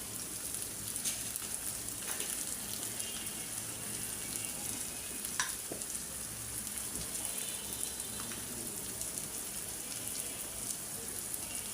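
Bay leaves frying in a pan for lentil dal, a faint, even crackling sizzle like light rain, with a few brief soft clicks scattered through it.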